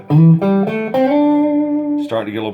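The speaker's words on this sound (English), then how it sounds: "The middle pickup by itself, again, we get a little bit of that hum, but start" Squier Bullet Strat HSS electric guitar played through the middle pickup alone, a few plucked notes ringing out clearly with slight hum, then a brighter strum at the end.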